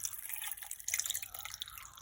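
Water poured into a pan for basa steak adobo, a soft dripping and splashing trickle heard alone at close range, fairly quiet and continuous.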